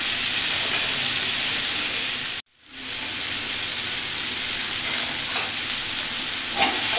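Boiled chickpeas frying in masala in a pan, giving a loud, steady sizzle with a short break partway through.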